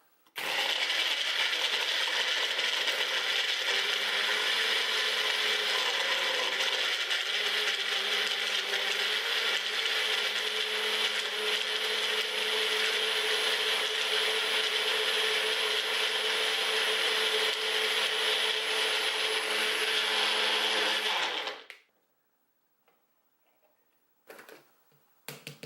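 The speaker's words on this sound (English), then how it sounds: "I'm going to let it blend automatically." A Magic Bullet blender whirs loudly and steadily while crushing ice, its motor tone dropping slightly as the load changes, running for over twenty seconds before cutting off abruptly, followed by a few faint clatters.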